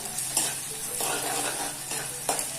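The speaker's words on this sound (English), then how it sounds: "Stir it well. You can fry it just little like we do for upma" Something fries in a pan with a soft, steady sizzle while a spoon stirs and scrapes it in a few close, light strokes, and no one speaks.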